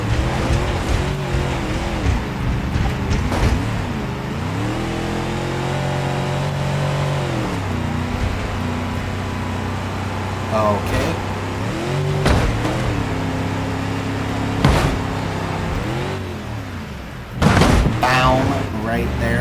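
A Ford Crown Victoria's engine drones steadily in a racing video game as the car laps the Proving Grounds circuit with a failing, overheating engine, its pitch rising and falling through gear changes and occasional tire squeals, under ongoing commentary.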